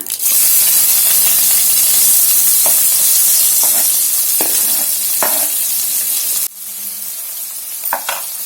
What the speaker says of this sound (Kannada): ಈರುಳ್ಳಿಯನ್ನ ಫ್ರೈ ಮಾಡ್ಕೊಳ್ಳೋಣ